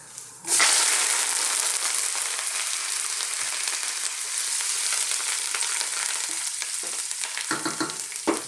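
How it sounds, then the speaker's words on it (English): Loud, steady crackling sizzle as curry leaves hit hot oil, spitting and popping continuously up close with no voices. "I've got some fresh curry leaves. This can be quite noisy."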